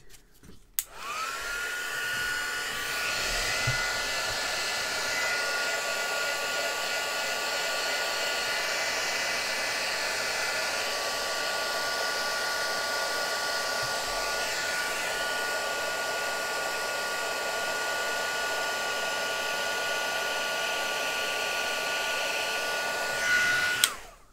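A heat gun warming embossing powder for card making blows with a constant loud whooshing hum for over twenty seconds, starting and stopping with clicks.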